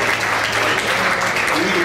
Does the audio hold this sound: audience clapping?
yes